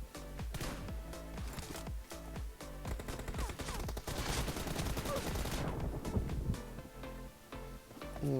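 Dense automatic gunfire rattles almost continuously in a PUBG match, with rapid overlapping bursts that stay loud throughout.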